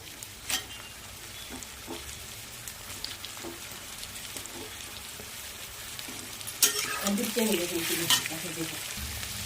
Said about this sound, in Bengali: পেঁয়াজটা একটু নরম নরম হয়ে গেলে এর মধ্যে এখন টমেটোটা দিয়ে দেব